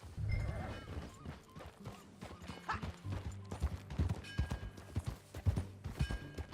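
Horse hooves clip-clop in Red Dead Redemption 2 as a horse is ridden, a steady rapid rhythm of fairly close hoofbeats over low rumbling game ambience and faint music, with no talk.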